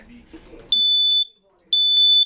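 Two loud, piercing electronic beeps from a smoke detector being tested during installation, each about half a second long, with a short gap between them and a brief murmur of voices just before.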